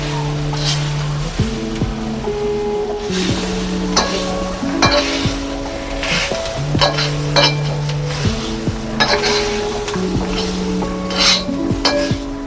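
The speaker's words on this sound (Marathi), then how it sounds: "आता मी काढून घेते आणि खोबरं भाजून घेते।" Dried coconut roasting in a pan while being stirred, a soft continuous sizzle with repeated scraping and clinking of the spoon against the pan, steady and close, with tonal background sounds from a nearby source.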